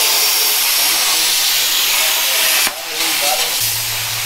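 Metal being cut on a Jeep produces a loud, steady harsh hiss that dips briefly before resuming, close up, with a low hum entering near the end.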